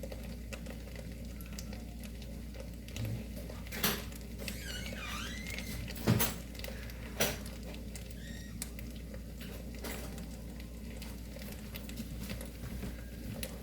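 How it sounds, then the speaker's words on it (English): Butter and seasoning being stirred in a pan, with soft scraping, a few squeaks and occasional sharp clinks of a utensil against the pan over a low steady hum. "Stir everything around. Make sure that butter gets incorporated in there."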